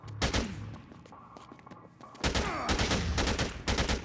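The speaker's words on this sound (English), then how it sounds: "we are going to try and tap fire down Boykin with our LMG" LMG fire during a boss fight against Boykin in Dead Rising 2: Off The Record, with loud rapid bursts of automatic gunfire, a quieter pause in the middle, then sustained dense firing.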